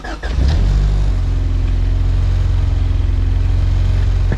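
A car engine fires up through a homemade switch and relay setup, catching quickly after a brief crank and settling into a loud, steady rumbling idle close by, with no talking.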